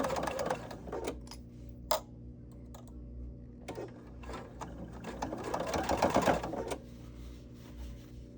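A sewing machine runs in bursts, stitching forward and then reversing to back stitch a seam on a fabric envelope, its rapid mechanical chatter starting and stopping close by with brief pauses between runs.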